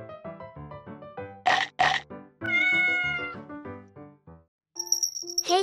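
A cat meows repeatedly, a series of loud, close, tonal mews and grunting cries with short pauses between them, ending with a high-pitched squeal.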